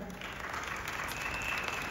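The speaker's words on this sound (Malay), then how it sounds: "Berikan tepukan pada Elkon." A brief, steady wash of applause from a crowd, moderately distant and even in intensity throughout.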